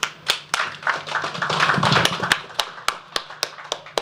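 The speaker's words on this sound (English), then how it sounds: "Another round of applause" At a press conference, a small audience claps, with sharp, distinct hand claps spaced irregularly and a brief denser burst in the middle, close and fairly loud.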